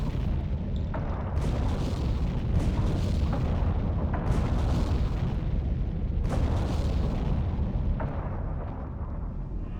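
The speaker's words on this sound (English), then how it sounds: "Okay, explosions behind us." Repeated deep booms and blasts from Silent Hunter 3 GWX, a U-boat game, roll over a constant loud rumble, several sharp explosions bursting at irregular intervals.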